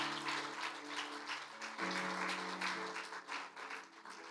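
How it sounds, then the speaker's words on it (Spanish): A church congregation applauds during a sermon, a steady, dense wash of many hands clapping over a sustained organ or keyboard chord that shifts pitch partway through. "Dele palmas a mi Cristo"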